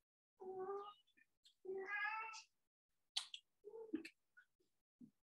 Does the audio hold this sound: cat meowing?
yes